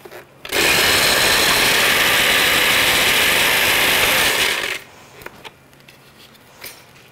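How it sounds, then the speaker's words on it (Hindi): An electric coffee grinder chops bread slices into crumbs in one loud, continuous whirring burst of about four seconds. It stops abruptly, leaving a few faint clicks. "मेरे पास यहाँ पे कॉफ़ी ग्राइंडर है"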